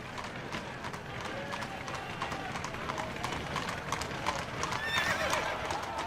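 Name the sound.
horses pulling a horse-drawn hearse, hooves and neighing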